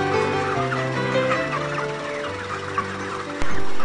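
Chickens clucking steadily throughout, a mix of roosters and hens close by in a continuous flock chatter with a louder burst near the end.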